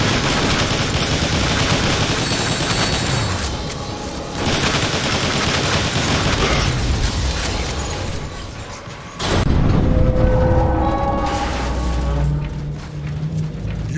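Heavy sustained gunfire with bursts of automatic fire and booming blasts in the Transformers: War for Cybertron video game, loud and dense throughout with a brief lull before a renewed barrage.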